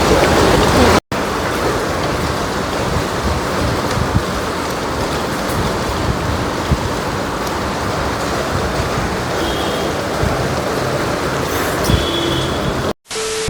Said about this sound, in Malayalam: ഇനി ഭയങ്കര മഴ ഒരു രക്ഷയില്ലാത്ത മഴയാണ്